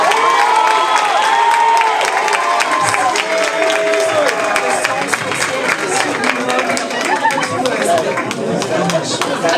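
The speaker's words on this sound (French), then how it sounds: "on peut vraiment les applaudir encore une fois." A Miss Yonne pageant audience applauds and cheers loudly and steadily, a dense wash of clapping and crowd voices with a voice or tones rising over the top.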